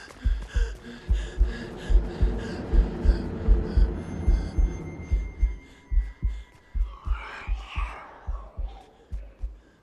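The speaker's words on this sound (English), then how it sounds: "I think in this level you need to find like a heartbeat." A low, steady heartbeat thumps in a backrooms level of the video game Fortnite, with regular double pulses throughout under a droning hum, and a voice briefly speaks midway.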